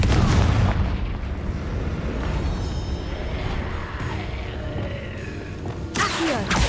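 A Confringo fire-blast spell going off in the Hogwarts Legacy video game, a booming burst that rumbles on as a sustained roar with a fresh crack near the end, loud and close.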